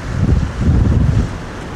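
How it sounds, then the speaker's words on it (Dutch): Strong wind buffeting the microphone aboard a boat on a narrow ditch, in low, rumbling gusts that swell and ease, with a faint watery wash in the background. "Waait lekker."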